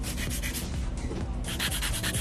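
A 100-grit nail file rasps quickly back and forth across a nail during pink and white ombré powder work. The strokes are close and steady and continue without a break for a couple of seconds.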